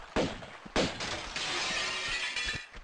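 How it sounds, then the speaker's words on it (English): In the Tomb Raider video game, glass shatters in a few loud, sharp crashes, each followed by tinkling debris, close by with no voices over it. "I love the sound of that glass smashing."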